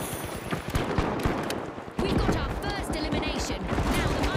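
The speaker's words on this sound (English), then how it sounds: "there's gunfire everywhere" Bursts of gunfire in The Finals crackle rapidly and close, a busy fusillade of layered shots with a person talking over part of it.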